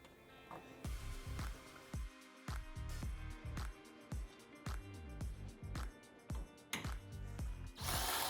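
Close ratcheting clicks and power-tool bursts as a tool backs out the top mounting bolts of the visor on a Polaris RZR XP 4 1000 UTV, in repeated short runs with brief pauses.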